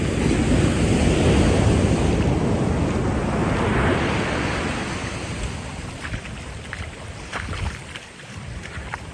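Ocean waves wash and surge in a loud, continuous roar with heavy wind buffeting, easing somewhat partway through.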